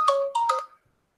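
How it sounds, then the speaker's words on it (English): A phone ringtone for an incoming call plays during a live Bible study broadcast: two or three close, clear melodic bursts of tones, then the ringing stops and silence follows. "Here's Renee on the phone"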